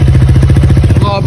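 Honda Click 125 scooter with a Namban aftermarket power pipe, its exhaust putting out a rapid, even, crisp pulsing burble at close range, loud and steady throughout.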